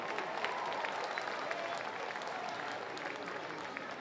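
A crowd at a world championship campdraft round applauds a young rider, a dense, steady wash of clapping from many hands that carries evenly for a few seconds, with an announcer's voice faintly underneath.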